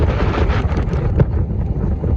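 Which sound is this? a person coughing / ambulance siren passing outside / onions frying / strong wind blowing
strong wind blowing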